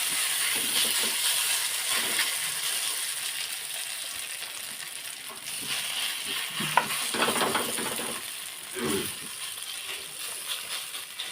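Potato pieces fry in hot oil in a wok, giving a steady close sizzle with a few louder bursts of crackle and occasional stirring scrapes, and no talk.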